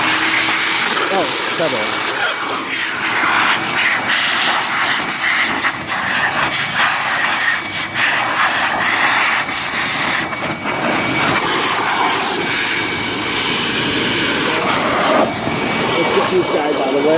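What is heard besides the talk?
air blower running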